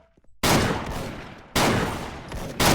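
Gunfire in the video game Special Force, three loud close bursts of rapid shots, each starting sharply and trailing off before the next, with no talking between them.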